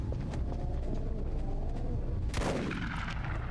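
Doom-style shotgun in the video game EYE Divine Cybermancy, one loud blast with a long decaying boom, over steady in-game rumble and firing.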